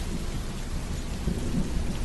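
Thunder rumbles during a lightning storm over a city at night, a low continuous roll mixed with the hiss of steady rain, close and fairly loud with no voices.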